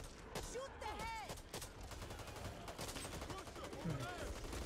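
Rapid gunfire from the zombie shooter Back 4 Blood crackles in close, overlapping bursts, with game noise and voices mixed in underneath.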